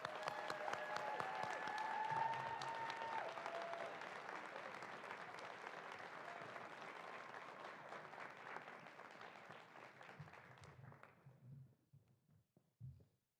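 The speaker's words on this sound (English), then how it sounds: "if we could give whoever just another round of applause" A school board event audience breaks into sustained applause that swells, holds for about ten seconds and fades out, with some faint tones early and a few low sounds after the clapping stops.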